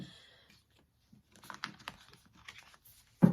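Soft papery riffling and tapping of tarot cards being shuffled, quiet and irregular, ending with a sudden louder thump.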